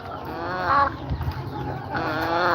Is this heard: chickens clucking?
yes